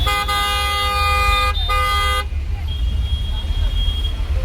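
Heavy Mumbai street traffic with a car horn honking in two sustained blasts over a constant low rumble of engines, close and loud, then fading into traffic noise with a faint distant tone.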